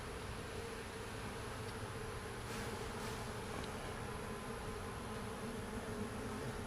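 Steady, faint buzzing of bees around a messy hive full of honey, a continuous drone with no speech.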